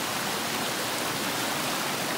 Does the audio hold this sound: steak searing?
no